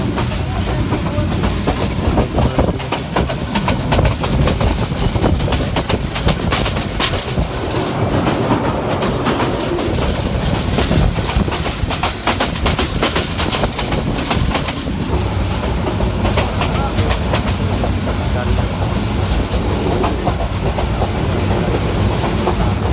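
The Paharika Express runs on rails between Kulaura and Sylhet, a loud, continuous rumble with rhythmic clickety-clack from the wheels, heard from inside the carriage.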